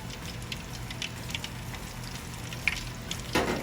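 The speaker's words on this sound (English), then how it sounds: "If that already has a nice sizzle going to it" Steady hot sizzle of breaded chicken frying on a Blackstone griddle, with faint crackles and pops throughout, close and fairly quiet.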